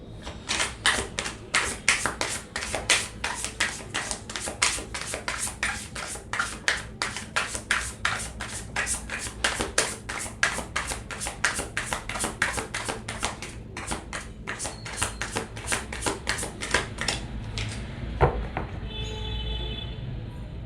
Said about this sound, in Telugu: కార్డ్ షఫుల్ చేసుకుందాం.